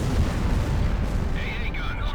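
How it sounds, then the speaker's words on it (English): An aircraft firing a volley of rockets in the Ace Combat Zero video game: a dense continuous rumbling roar of launches and explosions, loud and steady, with a brief whistling tone rising toward the end. "Oh right, it fires a bunch of rockets."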